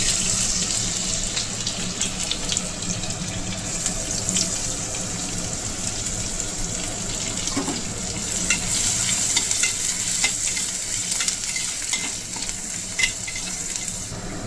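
Chopped garlic sizzles in a pan of hot oil as it is stirred, a dense, close crackle running throughout with scattered spoon scrapes and light clinks.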